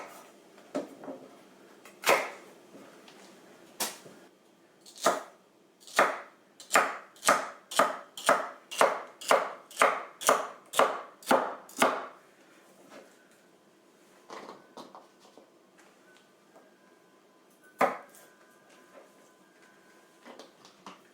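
Celery chopped for a venison stew produces a series of crisp knife strikes on a cutting board, a few spaced cuts followed by a quick, even run of about a dozen chops, then quiet with one last cut.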